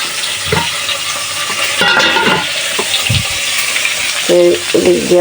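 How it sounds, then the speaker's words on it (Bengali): Spices sautéing in a pan with lightly fried snakehead fish for a curry, heard as a loud, continuous sizzle with scraping stirs and clatters up close, and no speech. "মাছগুলো তো হালকা একটু বেজে নিছি আর মশলাটাও ভালোভাবে কষায় নিতেছি"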